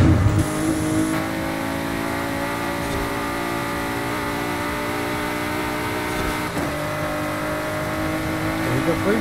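Ford GT engine roaring during a race in Forza Horizon 5, a loud sustained drone at high revs with a brief gear change partway through, playing continuously.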